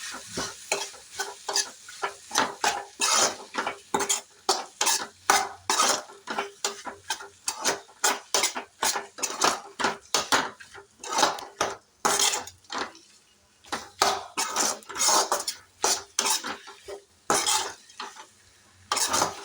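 Pasta being stirred in a hot pan with a sizzling fry, a utensil scraping and tapping the metal in quick irregular strokes, close up and fairly quiet, with no talking.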